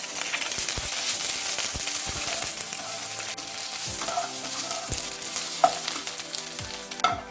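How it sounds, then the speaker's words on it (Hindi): Okra (bhindi) frying in oil over a medium flame, a steady close sizzle with occasional stirring clinks and scrapes of a spatula against the pan, no voices. "अभी इसको मीडियम फ्लेम में 3 से 4 मिनट तक हल्का सा ब्राउन होने तक फ्राई करेंगे।"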